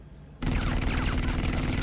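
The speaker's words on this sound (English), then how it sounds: "Did I just take a whole bunch of bullets to the chest?" A sudden burst of rapid gunfire erupts from near silence and keeps going as a loud, dense volley of bullets strikes Batman in the Telltale Batman video game.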